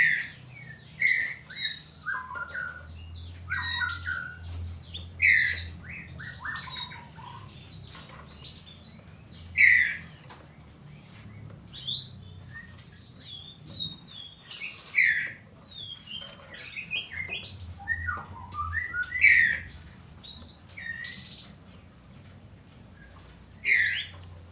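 Male and female canaries chirp in short, bright bursts of whistled calls and trills, scattered irregularly at close range over a low, steady background hum.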